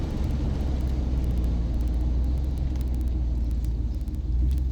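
A 2004 Chevrolet Silverado pickup accelerating on a road, a steady, loud, close engine rumble with deep low-end drone that holds throughout with little change.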